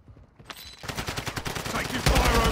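Rapid automatic gunfire rattles in the Warzone 2 video game, bursts of close, loud shots with sharp cracks and echoing reports, building to a heavier volley at the end.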